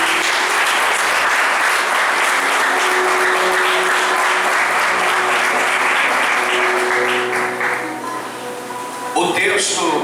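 A church congregation applauds together, a loud, dense wash of clapping that holds steady before thinning out, with a voice and some music tones underneath.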